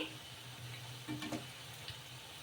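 Puffed rice (murmura) fritters frying in hot oil over high flame, a quiet steady sizzle with a few soft bubbling bursts and light stirring.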